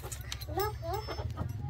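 Hens clucking in short bursts over a steady low background hum, fairly close, with a few sharper calls toward the end.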